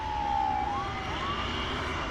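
Ambulance siren near DFW Airport, a single wailing tone sliding down then rising again, moderately distant over a constant background hum of airport and traffic noise.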